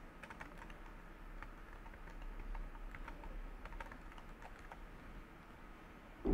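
Quick, steady clicking of fingers typing on a computer keyboard, close but fairly quiet, in a continuous run with no talking.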